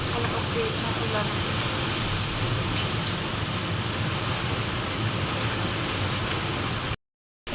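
Heavy rain pours down steadily during Typhoon Ramil, a dense, hissing patter close and continuous, with muffled voices beneath, ending in a brief cut to silence.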